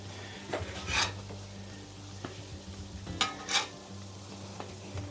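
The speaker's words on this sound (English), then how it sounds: "And now it is just a matter of toasting the bread and melting that cheese." A grilled cheese sandwich toasts on a griddle at about 305 degrees with a soft, steady sizzle, while a spatula scrapes and taps the flat top a few times; no one speaks.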